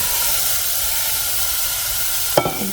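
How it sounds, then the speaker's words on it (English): Strawberries sizzle in a saucepan with a steady, close, bright hiss. A single sharp clink near the end stands out from it, and no one talks. "And here it's sizzling."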